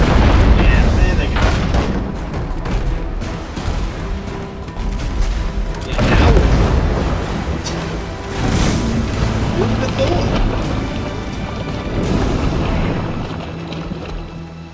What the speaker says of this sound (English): One more shot of the cannon, kill them though.